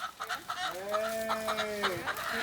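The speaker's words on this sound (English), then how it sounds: "Catch the chicken." A chicken on a film set clucking loudly and close, a drawn-out squawk between shorter clucks, with other activity in the background.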